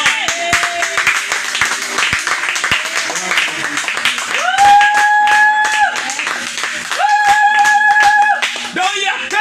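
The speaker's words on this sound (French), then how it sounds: "Est-ce qu'on peut lui donner une somme d'acclamation?" A church congregation claps and cheers during a sermon. Quick sharp hand claps rise over sustained sung or shouted tones and voices, loud and close, swelling in waves.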